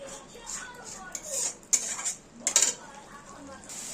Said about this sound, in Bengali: এক থেকে 2 মিনিটের মতন আমরা মশলাটাকে ভালো করে কষিয়ে নেব, যাতে কাঁচা গন্ধটা না থাকে।